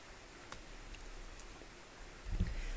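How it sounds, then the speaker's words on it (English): Rain falling in the background, a faint, steady hiss with a few soft ticks and a low rumble swelling near the end, with no voices. "That's the rain."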